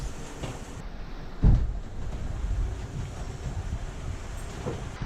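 Wind roars across the microphone aboard a Lagoon 50 catamaran sailing across the Atlantic, with ocean waves washing past the hull and one louder thump of water partway through.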